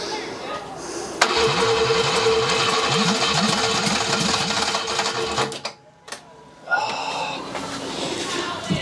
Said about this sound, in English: Don't think the starter motor's happy.